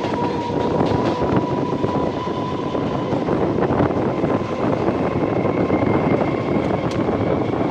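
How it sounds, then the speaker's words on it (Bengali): A passenger train on the Krishnanagar to Berhampore line rumbles along steadily, with a loud continuous roar and clatter heard from inside the moving coach and a faint whine running through it, with no voices. "আমাদের ট্রেন এসে পৌঁছালো দেবগ্রামে"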